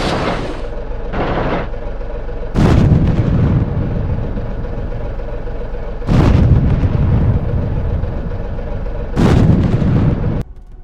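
Artillery fire is called in on a watchtower in a battle scene, with several heavy booms landing at intervals and each one followed by a long rumbling roar.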